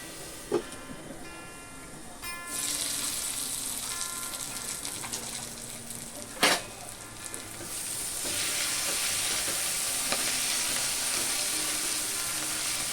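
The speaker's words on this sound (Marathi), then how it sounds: "आता भोपळी मिरची आपण शिजवून घेऊया, वाफवून घेऊया नीट।" Chopped capsicum cooking in a pan, an ongoing sizzle and steamy hiss with a few sharp clinks of a utensil, swelling louder and fuller in the second half as the pan heats, no talking over it.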